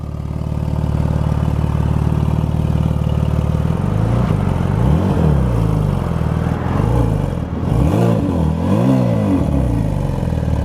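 An Audi RS7 with new downpipes idles with a loud, steady rumble, then revs up and down in repeated swells, close by.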